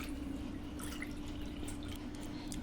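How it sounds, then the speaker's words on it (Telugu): Water runs steadily into a cooker holding washed toor dal, a soft continuous trickle with light dripping over a low hum, fairly faint throughout. "కందిపప్పుని ఒకసారి వాష్ చేసుకొని 3 కప్స్ వాటర్ వేసుకోవాలి"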